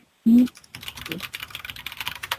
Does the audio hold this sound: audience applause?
no